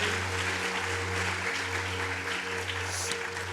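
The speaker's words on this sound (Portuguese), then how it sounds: "Você pode aplaudir o Senhor?" Continuous applause from a church congregation fills the space, a dense steady patter of clapping over a low sustained hum.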